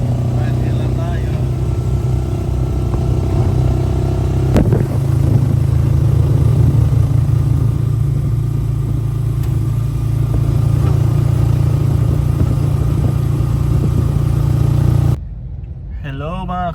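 A motorized tricycle's engine drones loudly and steadily from close by while riding, with rattling and shifts in revs, under constant talk, before cutting to a quieter scene near the end.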